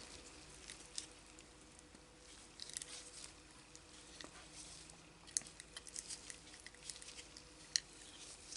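Bedding compound stirred and mixed with a small flexible plastic spatula: soft, irregular wet scraping and squishing close by, quiet, with occasional sharper clicks and taps.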